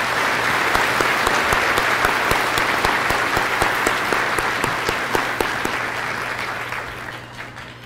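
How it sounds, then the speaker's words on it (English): At a high school graduation ceremony, a large crowd gives a graduate a round of applause, steady dense clapping with occasional sharper claps that slowly tapers off toward the end. "One more round of applause."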